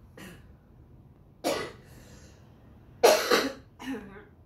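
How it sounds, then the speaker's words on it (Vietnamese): Woman coughing indoors at home, three or four separate dry coughs spaced a second or so apart, fairly close and moderately loud against a quiet room, with no talking. "Mẹ bị ho nè"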